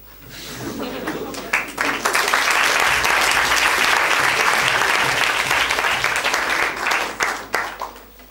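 A theatre-style audience bursts into loud, sustained applause after a spoken verse performance, swelling to a dense roar of clapping for several seconds before tapering off with a few scattered claps.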